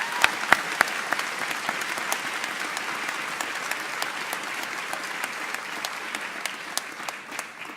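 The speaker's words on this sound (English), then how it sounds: "Let's give all these people a big round of applause." Audience at a university convocation ceremony giving a round of applause, a steady wash of many hands clapping with a few sharp, close claps standing out at the start and scattered throughout.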